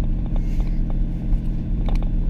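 A 2019 Ram 3500 HD diesel truck cruising while towing down a mountain, a steady low rumbling cabin drone with faint clicks, no talk.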